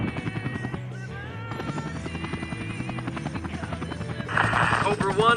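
A helicopter's rotor chops in a rapid, steady beat in the video game Air Conflicts: Vietnam, heard under people talking, with a louder burst of engine and action near the end.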